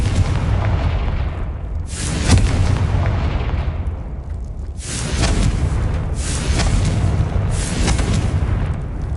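Booming blasts from the Confringo fire spell in Hogwarts Legacy go off roughly every two seconds, four heavy explosive bursts with rumbling tails, loud and close over a continuous noisy game background.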